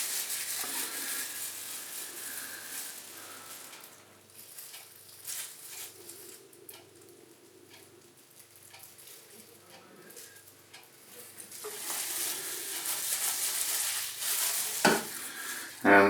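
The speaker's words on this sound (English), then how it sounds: "it says stir for 10 minutes" Woodland Scenics deep pour water effect resin being stirred in a container, a soft continuous scraping and swishing that rises into brighter, louder stirring near the end, with a clunk just before the close.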